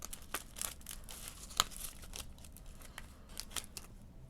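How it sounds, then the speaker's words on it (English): Scissors cut away the cover of a Dollar Tree photo album, giving a series of quiet, close snips and crinkling scrapes at an irregular pace, with one sharper click partway through. "I'm going to come in here very carefully and start to cut this away."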